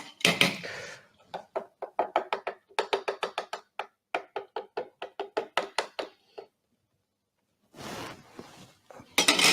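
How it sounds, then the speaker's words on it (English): A spoon stirs Pacojet instant soup, freshly mixed with boiling water, in a bowl, making quick rhythmic clinks and taps against the sides in steady runs, close and clear, then pausing before a brief rustle. "You give it a stir."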